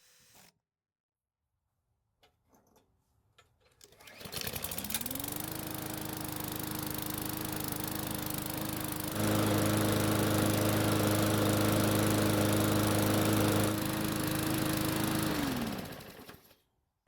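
A hard-to-start lawn mower engine, with a freshly set coil-to-flywheel air gap and already hot after about five minutes of running, starts and runs steadily at close range, rises to a louder, higher pitch midway, then cuts off.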